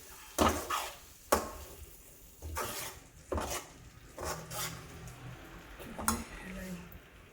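A utensil stirs tomato egg curry in a pan after the stove is switched off, making a series of scraping, clinking strokes with short pauses between them, close and moderately loud.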